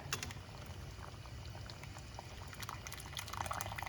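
Vatha kozhambu, a thick tamarind curry, bubbling and boiling in a pot, a steady close simmering crackle and pop that continues evenly without talk.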